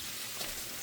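Shrimp sizzling in a hot pan, a steady soft frying hiss with faint crackle, close and fairly quiet, no voices.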